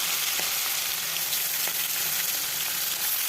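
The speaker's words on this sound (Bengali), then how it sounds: "সরিষার তেল দিয়ে দিলাম, কড়াই গরম হয়ে গেছে।" Hot mustard oil sizzling in a heated wok, a constant close hiss and crackle for a few seconds with no voices.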